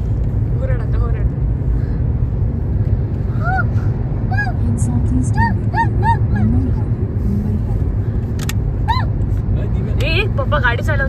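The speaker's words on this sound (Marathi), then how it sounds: "पप्पा गाडी चालवते" Family car cruising along a highway past Lonavala, its cabin filled with a steady low road rumble throughout, while scattered chirps, faint honks and murmuring voices rise over the drone.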